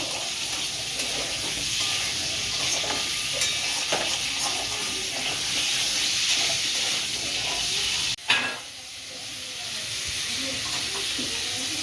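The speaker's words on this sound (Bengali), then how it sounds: "পটলটা একটু লাল লাল করে ভেজে নেব।" Pointed gourd (potol) fries in a pan with a dense, even sizzle and hiss, a sudden clatter breaking in near the end before the frying settles back to a quieter crackle.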